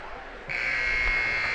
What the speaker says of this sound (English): there goes the buzzer to end the opening period